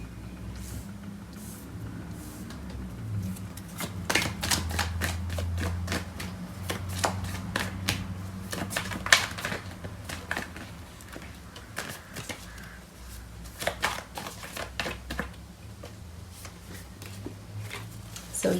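Tarot cards shuffled by hand, a soft rapid riffling and flicking in irregular bursts across the whole stretch, close but quiet, with no talk.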